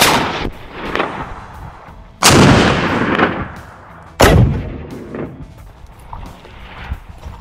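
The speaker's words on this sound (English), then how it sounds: "now it's just me and I get to shoot a Sherman" A Sherman tank's main gun fires at a range: several heavy, booming shots, each a sharp blast followed by a long rolling echo, heard close beside the tank, with quieter thumps between them.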